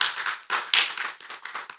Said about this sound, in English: Please give applause to our presenter today.